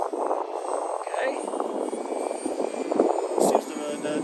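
A light Wltoys XK A280 brushless RC P51 Mustang model plane flies in wind, its motor giving a steady distant whine and drone that swells slightly near the end, heard alone without talk.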